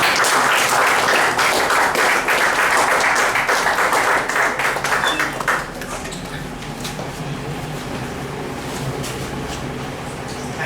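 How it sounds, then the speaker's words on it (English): A huge round of audience applause at a Toastmasters club meeting, loud and dense across the room for about five seconds, then thinning to scattered claps and background murmur. "please give a huge"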